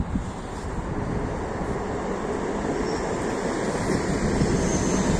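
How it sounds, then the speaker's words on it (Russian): Electric commuter train rolling past in snowy Moscow, a steady broad rumble and roar that holds loud and constant throughout, with no voices over it. "Там проходит электричка."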